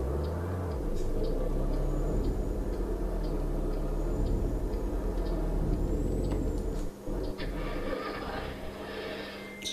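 In the Euro Truck Simulator 2 video game, a truck's engine rumbles low and steady before a sharp burst of air brakes hisses near the end, with a faint ticking indicator.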